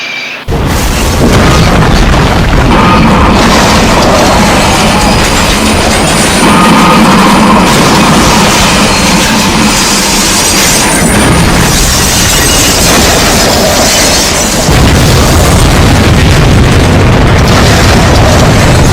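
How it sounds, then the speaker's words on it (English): Two trains colliding in the 1997 Devine train collision: a long, loud, sustained crash of booming impacts and grinding metal that rolls on without pause, with no voices. "at 10:52 p.m., the trains collided"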